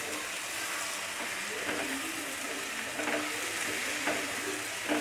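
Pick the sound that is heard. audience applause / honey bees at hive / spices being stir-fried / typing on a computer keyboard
spices being stir-fried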